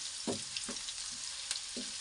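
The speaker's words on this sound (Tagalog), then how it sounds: "Sunod na natin yung sibuyas na puti. Ayan. Ano lang ito? Simpleng gisa lang." White onion sautéing in a pan for a simple gisa of ampalaya with egg, a steady close crackling sizzle with a few soft stirring scrapes spaced through it, no voices.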